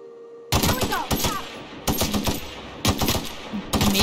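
A mega gun fires in The Outer Worlds video game, heard as loud rapid bursts of automatic gunfire with short gaps between volleys, near and dense.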